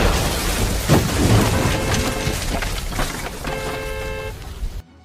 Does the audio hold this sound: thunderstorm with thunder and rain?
yes